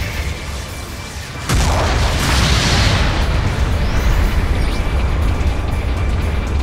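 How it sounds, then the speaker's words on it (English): A mobile suit blowing up in Gundam Battle Operation 2, where a sudden loud boom breaks in after a quieter stretch and leaves a dense, roaring rumble that holds steady to the end. "The mobile suit has been destroyed."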